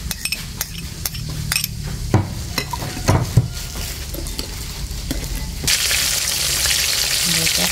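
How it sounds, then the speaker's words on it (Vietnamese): Food fries in a pan in a home kitchen, with continuous sizzling and crackling and a utensil scraping and clinking against the pan. The sizzle grows louder and denser toward the end. "Mình sẽ chiên tiếp tục"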